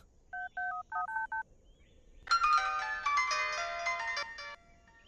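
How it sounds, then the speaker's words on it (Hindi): A phone dials with a quick run of paired keypad tones, then a mobile ringtone bursts in loud and melodic, ringing for a couple of seconds before cutting off, with no talk over it. "उनके फोन पे रिंग जा रहा है।"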